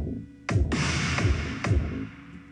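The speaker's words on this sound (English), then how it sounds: "I made this little itty-bitty turnaround, I guess, for the drums, which sounds like this" A dubstep drum turnaround built in FL Studio, with heavy kicks and bright, wide snare hits over a dense electronic wash, running loud and punchy for a couple of seconds before easing off.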